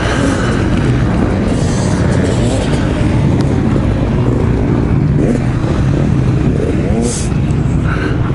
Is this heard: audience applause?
no